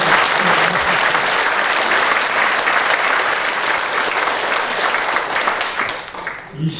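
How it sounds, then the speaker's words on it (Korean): Church congregation clapping during a Korean worship service, a loud, dense round of applause from a packed room that holds steady and then tapers off at the end. "박수 한번."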